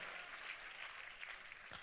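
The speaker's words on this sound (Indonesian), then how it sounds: "Tepuk tangannya yang lebih dahsyat lagi buat Yesus Tuhan kita." Faint, distant congregation applause in a church service praising Jesus, a soft continuous patter of clapping over the short stretch.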